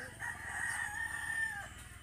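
Rooster crowing in a backyard, one drawn-out cock-a-doodle-doo, fairly faint and somewhat distant against low background noise.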